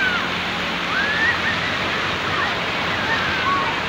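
A continuous broad rush of surf on Lhoknga Beach, Aceh Besar, Indonesia, steady and moderately loud, with faint high whistle-like tones drifting over it.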